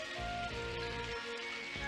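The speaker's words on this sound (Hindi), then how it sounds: "बारिश शुरू हो गई।" Rain begins falling in a Doraemon cartoon, a brief, soft, even patter of drops with a watery hiss, heard alone for under two seconds.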